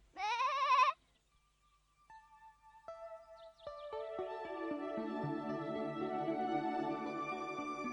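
A goat bleats once, loud and wavering, followed by a plinking melodic music background that builds in layered tones, with no talking.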